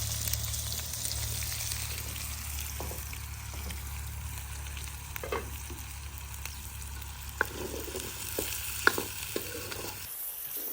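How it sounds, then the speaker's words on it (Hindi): Onions fry in a pan in a village mud-house kitchen with a constant close sizzle, a few sharp pops and clicks scattered through it, cutting off abruptly at the end. "यहाँ पे प्याज हमारे जो है वो फ्राई हो चुके हैं"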